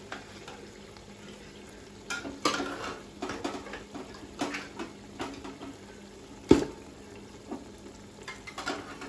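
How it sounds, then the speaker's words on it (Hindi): Boiled paya (goat trotters) are stirred into thick masala in a pot with repeated scraping and squelching strokes, one sharp knock against the metal, and a quiet sizzle underneath. "तो पाए हम अच्छे से मिक्स कर लेते हैं।"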